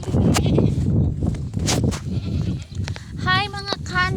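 Goats bleat in a wavering, nasal call near the end, heard up close. Before that, people talk and move around them.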